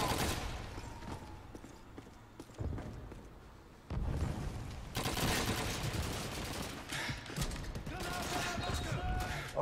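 Dense, sustained gunfire from Call of Duty 2 while the player's character is under fire, with bursts crowding close together and rising to a loud, continuous barrage in the second half.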